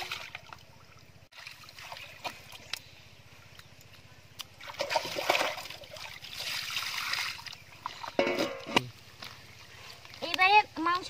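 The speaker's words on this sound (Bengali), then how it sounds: "তো চলুন এবার চিকেনটা ধুয়ে নেওয়া যাক" Raw chicken pieces are rinsed in water in a basket, giving irregular splashes and sloshing bursts over a constant low hum, with quiet gaps between handfuls and a few sharper splashes toward the end.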